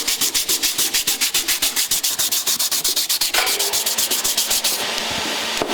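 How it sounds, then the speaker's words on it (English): Rapid, steady rasping strokes of fine sandpaper rubbing against a metal axe head, close and loud, settling into a continuous scrape near the end. "We also do a little bit of sanding with some fine sandpaper on the head"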